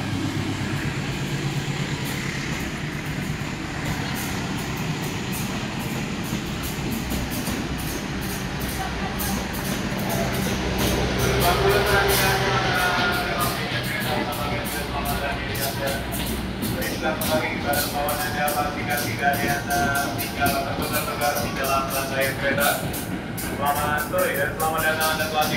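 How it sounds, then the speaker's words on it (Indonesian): Serayu train at platform 5 of a busy Jakarta railway station, a long continuous rumble of rolling stock with rhythmic clacking building toward the end, while station announcements and voices carry over it. "Jalur 5 kereta api Serayu."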